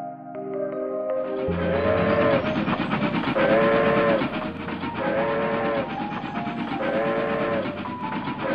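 Cartoon train sound effect at a station: a bright repeated whistle sounds in three long blasts over a steady rumbling, chugging rail bed, loud and close, with no talking.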